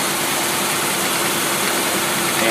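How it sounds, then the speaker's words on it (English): A car engine fitted with an electronic Rochester Quadrajet carburetor idles at about 800 rpm, a loud, steady mechanical hum with even vibration that runs without pause, heard close up. "We've already got our idle speed at 800."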